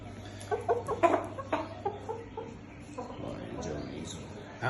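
Chickens and chicks cluck in scattered bursts close by, with a steady low hum underneath and people talking over them.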